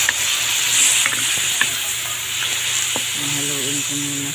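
Garlic, onion and adobo stirred in a hot pan: a steady, loud sizzle with scattered scrapes and clicks from the utensil, and a faint tonal voice-like sound near the end.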